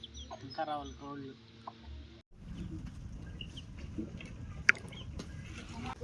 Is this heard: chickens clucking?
yes